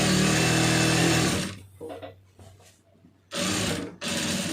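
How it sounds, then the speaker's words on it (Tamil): An electric sewing machine stitches along a blouse edge in two fast, loud running bursts separated by a quiet pause with small handling clicks. "இப்போ வந்து எஜி தையல் மாத்திரம் ஒன்று போட்டுடலாம்"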